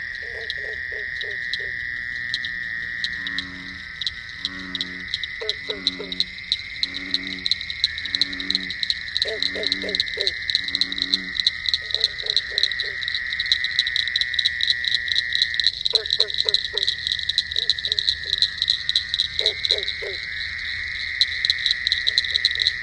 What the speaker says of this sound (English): he's there at midnight and there's frogs singing